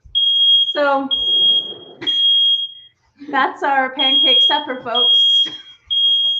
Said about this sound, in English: Yep, that's the smoke alarm.